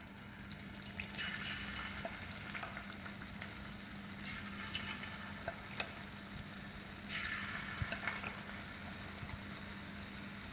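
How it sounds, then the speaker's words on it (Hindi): Chicken pieces shallow frying in hot oil over a medium flame, a continuous crackling sizzle with occasional pops and swelling bursts as more pieces go in, close and without talk. "अब चिकन को फ्राई करेंगे। चिकन को अब फ्राई करेंगे। ऑयल हमारा गर्म हो चुका है।"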